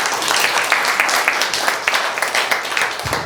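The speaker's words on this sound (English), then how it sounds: "Round of applause for Stephen." A small audience at a consulting business talk gives a round of applause, dense loud clapping that continues without a break and ends abruptly.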